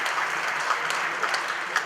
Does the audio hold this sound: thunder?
no